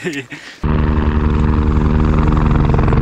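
A helicopter arriving on an Adi Kailash pilgrimage tour: its heavy, throbbing rotor drone starts abruptly and roars on loudly and steadily, close by, with no talking over it.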